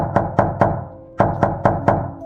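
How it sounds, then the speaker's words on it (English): Faint knocking inside a rented house at night, two groups of sharp knocks, first three, then a pause, then four more, evenly spaced and a little hollow, with no one speaking. "Around 8 p.m., the faint knocking began again."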